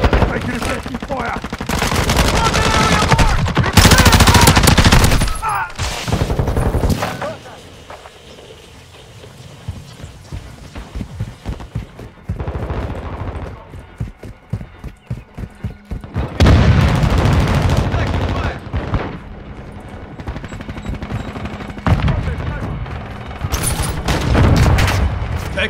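Gunfire in Modern Warfare 2, with heavy bursts of loud automatic fire and booming shots in several clusters, quieter lulls between them filled with scattered distant shots.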